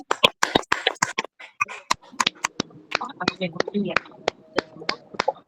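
Women at an intercession prayer fellowship clap their hands in thanksgiving, a run of sharp, uneven claps close by, mixed with spoken prayer voices between and over them.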